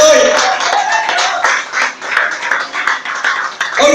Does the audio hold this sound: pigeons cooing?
no